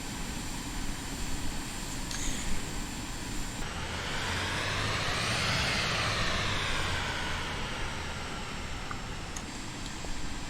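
A jet airliner in Microsoft Flight Simulator touches down on the world's shortest commercial runway at Yrausquin Airport, a steady engine roar swelling to a broad peak mid-clip before easing back, close and continuous with no voices.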